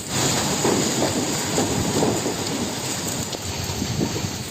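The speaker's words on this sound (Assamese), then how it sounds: "লগতে এতিয়া বৰষুণো আহি গৈছে।" Heavy rain and hail pour continuously during a dusty storm with deep rumbling underneath, a dense, loud wash of storm noise with no voices.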